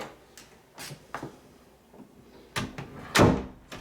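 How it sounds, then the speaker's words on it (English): A door with a freshly repaired loose hinge swings shut, giving a few light knocks and then a firm thud as it closes near the end, followed by a faint tap. "Let's see if the door closes."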